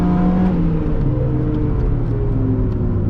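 A Miata's engine drones steadily under load as it accelerates to pass another car, with a continuous rising whir and rumble and no talking.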